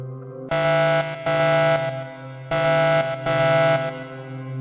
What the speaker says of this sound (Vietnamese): Tiếng còi báo động xé toạc sự tĩnh lặng chết chóc.